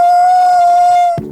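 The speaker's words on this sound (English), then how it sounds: "I think we have to declare the Wolf Howl." A loud, sustained wolf howl rings out as a single steady tone, marking the Space Wolves' Wolf Howl in a Horus Heresy tabletop battle, then cuts off abruptly into a brief low rumble.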